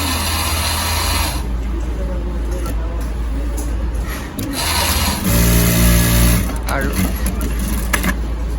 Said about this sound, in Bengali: মেশিনটা খুবই সাউন্ডলেস একটা মেশিন আর এটা আপনার যেমন এই যে এখানে যে মোটা সুতাটা চলতেছে